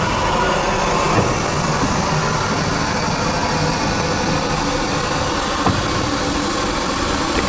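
A steam locomotive on the Keighley & Worth Valley Railway rolls out of the sidings with a steady, dense mechanical rumble and hiss, close and loud, with occasional faint knocks throughout.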